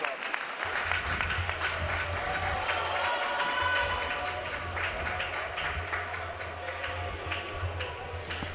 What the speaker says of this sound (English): Fans, how about one more round of applause for your graduating Mustangs?